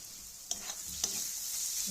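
Spatula stirring cumin, coriander and radish shreds in a dry pan for a Bengali radish dish cooked without onion or garlic, with two sharp scrapes over a steady low sizzle and no talking.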